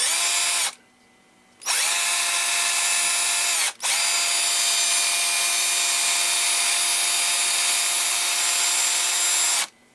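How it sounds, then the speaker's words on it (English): A power drill whines loudly in long bursts, stopping briefly twice, as the bit grinds steadily up close, enlarging a hole in a cassette gear from a Magnavox D8443. "So I'm going to set up my drill"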